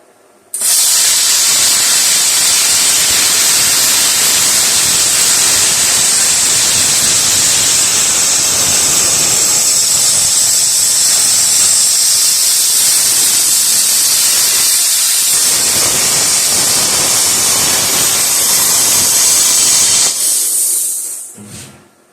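A VEVOR plasma cutter slices through metal with a loud, steady, high-pitched hiss that runs for about twenty seconds before cutting off.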